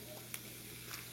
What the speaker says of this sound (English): You can probably hear some sizzle in the background.